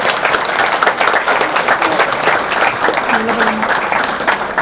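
An audience at a song release event breaks into loud, dense applause from a crowd of many people, steady and sustained throughout, with a faint voice underneath.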